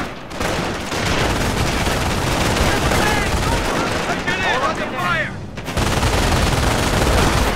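Machine gun fire and explosions from the World War II strategy game Company of Heroes, in a 2v2 battle at Achelous River. Dense bursts of gunfire and booms pile up together at steady loudness, with a brief lull near the end.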